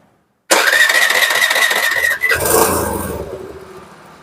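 A Suzuki Access 125 scooter with an RPM up-and-down fault caused by a sensor, its engine cranking and catching after a short silence, then running loud and close before the revs drop and fade toward idle.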